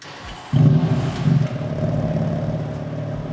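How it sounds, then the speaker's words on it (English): A BMW M3 engine cranks and fires up with a sudden loud rumble, then settles into a steady, throaty idle close by. "I'm going to get the engine started."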